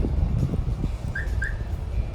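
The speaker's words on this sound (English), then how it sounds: "arm the alarm again on the truck. You heard it chirp." Two short high electronic chirps in quick succession from the alarm of a 2019 Freightliner Cascadia truck being armed, over steady outdoor background noise, brief and moderately clear.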